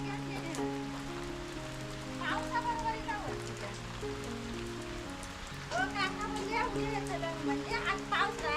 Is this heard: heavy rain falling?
yes